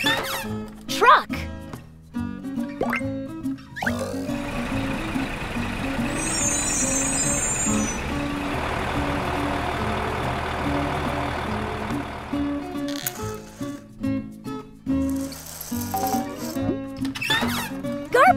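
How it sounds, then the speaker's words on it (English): A truck rumbles and rattles amid children's music, with a stretch of steady engine noise and high, repeated reversing beeps in the middle, set between bursts of cheerful tune. "Truck."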